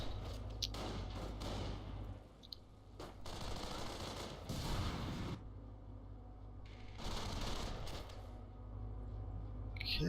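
Gunfire in a Company of Heroes battle: dense machine-gun bursts and rifle fire roll on almost without pause, with dull thumps mixed in, all at moderate level.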